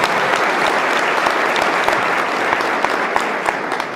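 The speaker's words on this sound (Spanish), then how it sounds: "un aplauso para él también" Studio audience applause for a journalist at a television tribute event, sustained and loud, with individual claps standing out as sharp spikes throughout the steady wash of hand-clapping.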